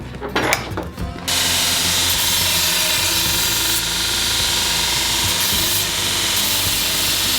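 A power tool grinds steadily through a metal bar, a loud continuous whine that starts abruptly after a second of rattling handling and holds nearly unbroken to the end.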